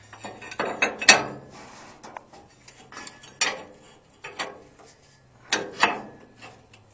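A hand ratchet tightens the U-bolts holding a rear mono leaf spring and bottom plate on a 1947-54 Chevy/GMC truck, heard as several short, close ratcheting bursts separated by pauses.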